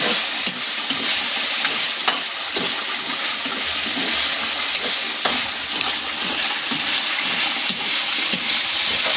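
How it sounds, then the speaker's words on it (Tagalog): Food being stirred in a frying pan before dried fish goes in, a steady close sizzle with scraping strokes throughout and no talking. "Haluin na natin kasi lalagyan na natin ng tuyo"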